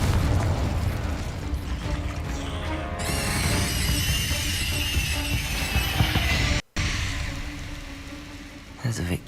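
Fire-spell explosion in the Hogwarts Legacy video game, a loud rushing blast that swells into a bright crackling burst amid dense battle effects, with a brief dropout and a voice speaking over the action.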